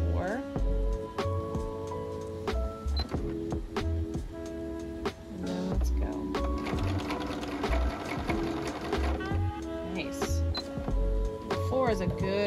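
A Bernina B570 QE sewing machine runs in short bursts stitching a long basting stitch, whirring and ticking up close, with beeps and a person talking between runs.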